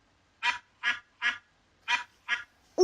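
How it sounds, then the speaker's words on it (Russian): A cartoon duck quacks five times in an evenly spaced series, each call short, bright and nasal, loud and close with silence between, set in a children's educational animal-sounds cartoon. "Утка."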